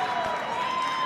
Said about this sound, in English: Duke's crowd loving the call there from the refs.